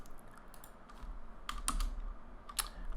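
Computer keyboard typing while writing code for a web app, sparse irregular key taps with a few louder clustered strikes, close and clear with no voices.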